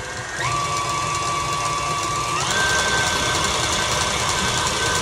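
An electric mixer beats chocolate-covered pretzel cheesecake filling with a steady, close motor whine that steps up in pitch twice as the speed increases.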